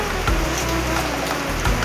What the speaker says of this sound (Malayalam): വീണ്ടും നല്ല മഴ പെയ്തുകൊണ്ടിരിക്കുന്നതാണ്